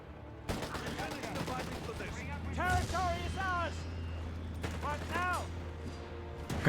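Machine-gun bursts and scattered gunfire from a Company of Heroes 3 battle, a rapid crackle running under constant commentary, with other battle noises and effects mixed in.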